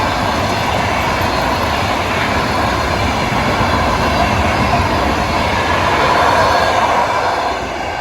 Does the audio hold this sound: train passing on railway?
yes